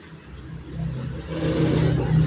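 An electric sewing machine stitches saree-cloth piping onto the front of a kattori blouse, its close motor whir and rapid needle rhythm picking up speed toward the end.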